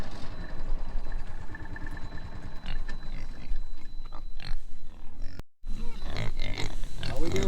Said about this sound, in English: How we doing, pigs?